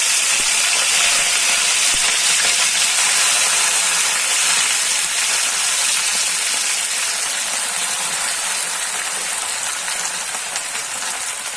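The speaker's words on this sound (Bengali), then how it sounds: "এখন গরম তেলে ডাঁটা পাতাগুলো দিয়ে দিচ্ছি।" Amaranth stem leaves fry in hot oil for a Bengali data shak bhorta, giving a steady, loud, dense sizzle that holds almost unchanged and eases slightly toward the end, with no talk.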